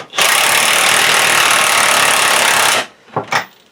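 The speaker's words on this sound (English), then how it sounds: "now you're just putting the wrench on one side, and let's tighten her up" A wrench tightening a bolt gives a loud, continuous rattling buzz for about two and a half seconds, then stops abruptly and is followed by two brief, quieter bursts.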